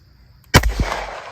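A single Walther pistol shot cracks sharply nearby, followed almost at once by a faint metallic ping from a steel target, then a fading outdoor echo.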